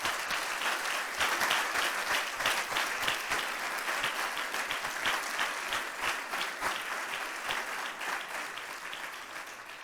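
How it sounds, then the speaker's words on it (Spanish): A church congregation at a revival service breaks into loud, sustained applause, dense clapping that holds steady for ten seconds and tapers slightly toward the end. "Le da un fuerte aplauso al Dios Todopoderoso por eso."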